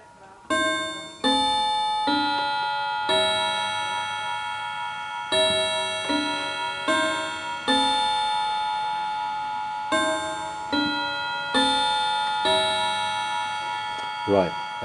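An antique Davison Bros London goldsmiths' clock strikes ten o'clock, with ten clear, ringing chimes, each decaying evenly, spaced at a steady measured pace, loud and close in a quiet room.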